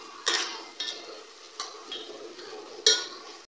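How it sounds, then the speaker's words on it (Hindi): Minced keema and chopped tomatoes fry in a pan, with soft sizzling broken by several sharp stirring scrapes of a utensil against the pan, spaced irregularly across the clip. "इनको अब 3-4 मिनट के लिए भूनते हैं।"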